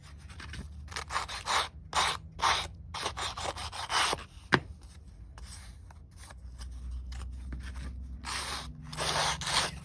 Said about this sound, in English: the sound of sandpaper grating on paper